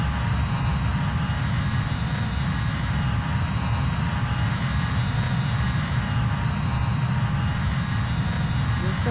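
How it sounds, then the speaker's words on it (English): Simulated Embraer E195 cargo jet in Azul Airlines cargo livery, from Flight Sim Studios, roaring through its takeoff run: a loud, steady, broad engine rumble that holds unbroken throughout. "It was a short takeoff with the Flight Sim Studios E195 cargo variant in Azul Airlines cargo."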